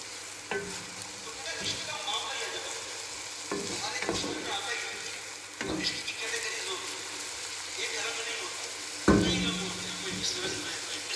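Onions frying in ghee while being stirred in a pan until light brown, a continuous close sizzle broken by repeated scraping strokes of a spoon every second or two.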